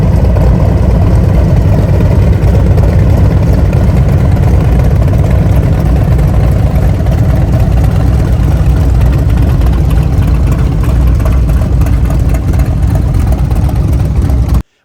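A motorcycle fitted with a Tab Performance Redline series exhaust runs loud and deep, a steady throbbing idle rumble close to the microphone that holds unbroken for around fifteen seconds.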